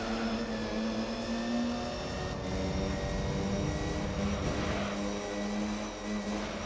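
A race car with a six-speed sequential manual gearbox and very high revs in Gran Turismo 3, a steady loud engine whine with sustained harmonic drone throughout and slight pitch shifts as it holds speed.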